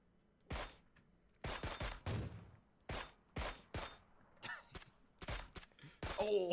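Repeated gunfire bursts in the PUBG battle royale game during a squad match, sharp broadband shots spaced irregularly over several seconds, loud and close with no talking.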